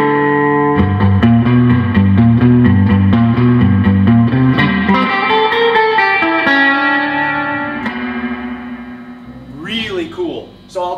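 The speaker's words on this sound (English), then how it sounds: "Best reverbs on here too. Their reverb is lush. I'm going to turn this reverb up." Guitar played through a Magnatone amplifier with its lush reverb turned up high, loud repeated chords and ringing single notes that wash into a long reverberant tail, followed by a short burst of pitch-bent effect sound at the end.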